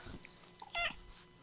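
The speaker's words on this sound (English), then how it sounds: "I just heard the meow and I'm like, cat." A single short cat meow cuts in faintly behind a podcast-style conversation, brief and somewhat distant, with low voices around it.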